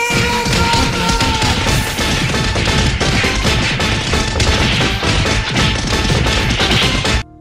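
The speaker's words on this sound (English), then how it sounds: "She was just over there just smashing that car" Someone smashes a car in a movie scene, a dense, loud, continuous barrage of crashing, whacking impacts and breaking noise that lasts several seconds and then stops abruptly, with no talk.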